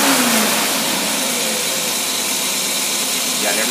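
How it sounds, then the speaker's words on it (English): A marine engine fitted with a Bruce Carter AFB carburetor runs loud and steady, held at about three-quarter throttle with a rising whine, a continuous close roar filling the whole stretch. "I'm just going to start it up, show you that it starts up, idles real nice"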